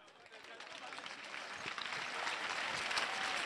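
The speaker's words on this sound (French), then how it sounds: "Applaudissez enfin les gens." Applause from a comedy show audience in Bingerville swells steadily from moderate to loud, a dense continuous wash of clapping heard at a distance.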